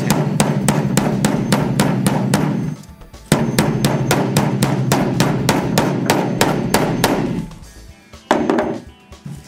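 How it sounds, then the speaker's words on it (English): Rapid, sharp hammer blows ring out close and loud on a metal band clamp buckle, folding down its ears in two quick bursts with a short pause between them and a few final strikes. "we're going to hammer down the ears of the buckle"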